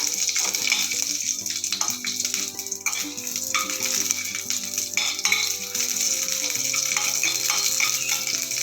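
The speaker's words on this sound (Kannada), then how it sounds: "ಸ್ವಲ್ಪ ಒಗ್ಗರಣೆ ಕೊಡ್ತೀನಪ್ಪ" Spices crackle and sizzle as they are tempered in hot oil for a raw radish gojju with dry red chillies, a steady frying hiss with small pops running throughout, close and continuous, with no talk.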